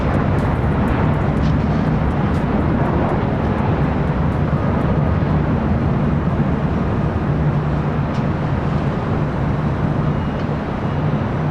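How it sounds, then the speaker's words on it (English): An American Airlines Dreamliner airliner takes off at LAX, a loud, sustained roar of jet engines with a low rumble filling the whole span, steady and unbroken with no speech. "See a American Dreamliner heading up here for a north side takeoff."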